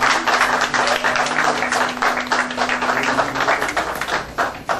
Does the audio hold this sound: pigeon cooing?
no